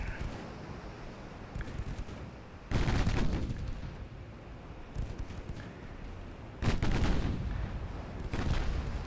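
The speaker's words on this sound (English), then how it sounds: "we've already detonated some of his torpedoes" Side deck torpedoes detonating aboard a warship in Ultimate Admiral: Dreadnoughts. Two heavy booming blasts land several seconds apart over a constant rumble of battle, with a smaller burst at the end.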